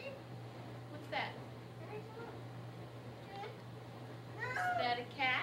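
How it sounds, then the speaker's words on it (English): A cat meows indoors in short calls during a family Christmas scene, while an adult and children talk over and between the meows. "Is that a cat?"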